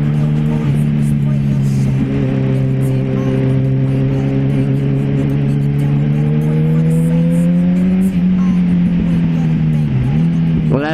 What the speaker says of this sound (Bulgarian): Влюбен съм във звука на мотора.